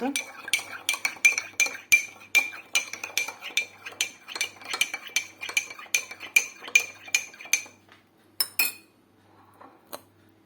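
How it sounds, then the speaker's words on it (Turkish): A spoon stirs and scrapes sauce for a bean salad in a bowl, with rapid rhythmic clinking taps, brief pauses and a last few strokes, close and clear with no talking. "Sosumuzu karıştıralım biraz güzelce."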